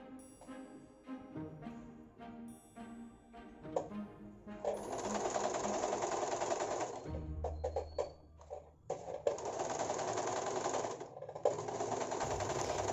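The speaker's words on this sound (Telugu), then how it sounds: "లాస్ట్ కూడా కొంచెం మడిచేసి కుట్టేస్తున్నాను." Sewing machine stitching the folded hem of a slim-fit saree petticoat, in rapid mechanical bursts separated by short pauses, close and fairly quiet.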